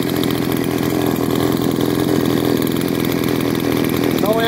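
Huyosen 6020 Pro chainsaw engine running steadily at a constant rasping buzz, close and fairly loud, with no pauses or revving.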